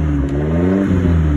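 A Tamiya owner-type jeep engine revs steadily while being tuned because it sputters, a loud, close idle-to-rev drone with shifting harmonic tones and slight clatter.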